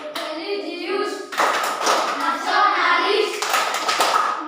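Children in a classroom clap out a rhythm in a clap game, hands striking in quick sharp patterns while young voices chant along.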